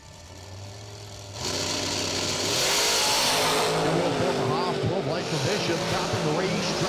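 Dragsters roar down a drag strip, their engines rising sharply from a steady idle to a loud, sustained, harmonically rich howl that stays close and fills the scene. A voice talks faintly underneath.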